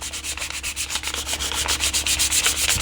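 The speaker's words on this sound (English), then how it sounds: "So this is the part where we're starting to fine tune the sanding process here" Hand sanding works the contours of a model Enterprise ship, a close, rhythmic series of rasping strokes repeating quickly and evenly throughout.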